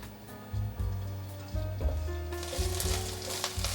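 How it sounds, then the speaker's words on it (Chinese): Shiitake mushrooms stir-frying in oil in a wok, a low crackling sizzle that swells into a brighter, livelier hiss partway through, with soft music playing underneath. "放入香菇炒香"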